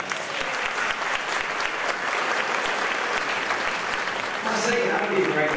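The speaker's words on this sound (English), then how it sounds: "Give them a round of applause for the Trump message." A concert audience at an outdoor tower concert series applauds a brass band, sustained, dense clapping for several seconds with a voice emerging near the end.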